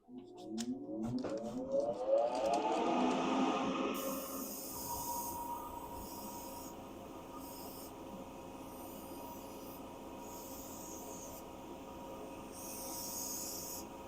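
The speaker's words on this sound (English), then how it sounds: "mix up a little carbon black in the airbrush and just darken the internals of the crest here" An airbrush sprays carbon black paint into the crest of a carved red-breasted merganser drake decoy, in short bursts of airy hiss that start and stop repeatedly after a quieter, humming opening.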